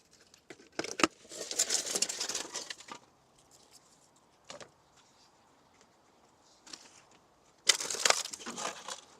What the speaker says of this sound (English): You can maybe hear the crunchy bits of me stepping on the insulation pieces